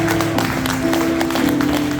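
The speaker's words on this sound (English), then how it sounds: "Give that boy a round of applause." Audience applause for a boy, a steady wash of clapping that carries under a sustained musical tone, lasting the whole moment at a fairly loud level.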